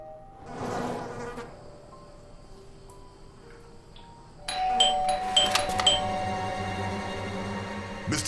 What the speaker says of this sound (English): I thought I should use the doorbell so I wouldn't startle you.